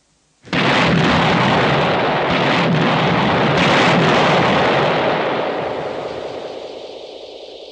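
Military sappers set off a demolition charge to destroy the remnants of a bridge. A sudden, very loud blast is followed by a long, heavy rumble that slowly fades away.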